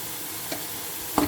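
Vegetables sauté in a pan with fresh coriander and mint leaves under a low, even sizzle, with two brief scraping stirs of a spoon, the second louder.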